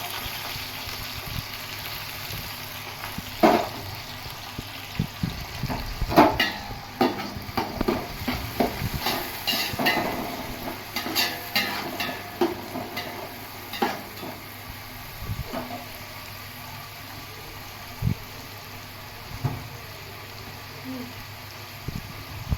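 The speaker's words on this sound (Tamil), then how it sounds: "வெங்காயம் நல்லா ஃப்ரை ஆகும்." Chopped onions fry in a pan for Chettinad chicken biryani, a soft steady sizzle broken by scraping and clattering stirs of a spoon against the pan, close by.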